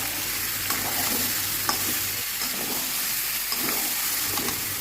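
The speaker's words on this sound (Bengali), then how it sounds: "এই যে এখন চিকেনটা কড়াইয়ে দিয়ে দিলাম।" Chicken stir-frying in a kadai, a loud continuous sizzle broken by repeated scraping stirs, close up and with no talking.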